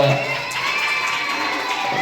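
An audience at a live magic and mimicry show cheers and claps, a sustained crowd roar with shouting voices mixed in, fairly loud and continuous throughout.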